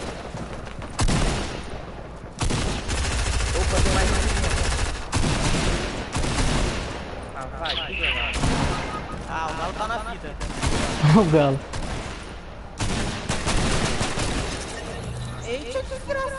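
Rapid bursts of gunfire in a battle royale video game crackle near and loud across the whole stretch, with players talking excitedly over the shooting throughout.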